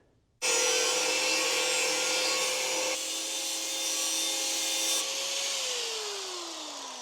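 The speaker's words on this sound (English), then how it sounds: "We're gonna grind that up and test fit it" An angle grinder cuts into a metal firewall panel on a custom car build, starting abruptly and running loud and close with a steady whine, shifting pitch partway through and winding down near the end.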